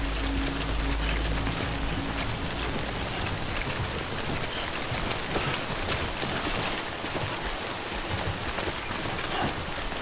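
Rain pours down continuously in the video game Death Stranding, a dense, even patter on surfaces that fills the whole stretch without any voices.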